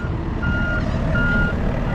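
Reversing alarm on a truck at a work site, two evenly spaced electronic beeps over a loud idling diesel engine rumble, close by.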